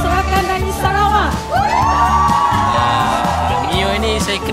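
Guests at a Sarawakian Malay wedding whoop and cheer together, a loud sustained crowd roar with rising shouts and yells filling the whole moment.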